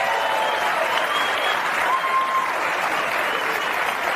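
A comedy club audience applauds at a Dave Chappelle stand-up show, a dense, loud, sustained clapping that fills the whole stretch without any speech.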